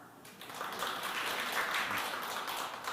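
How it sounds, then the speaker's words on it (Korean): An audience applauding at a presentation, a broad wash of clapping that swells after a quiet start and holds steady, heard from within the room. "네, 큰 박수 부탁드립니다."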